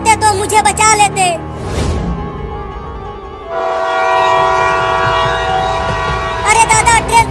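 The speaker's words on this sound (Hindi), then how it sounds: "अरे दादा, ट्रेन तो फिर से आने लगी।" A cartoon train approaches loudly and close, its horn blaring in long blasts at the start and end with a rumbling, clattering run of wheels in between.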